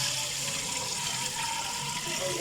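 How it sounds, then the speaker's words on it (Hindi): Water poured into a large pot of chickpea rice being cooked in bulk, a steady broad rushing splash that continues evenly throughout without pause. "Viewers, I added 9 liters of water in it."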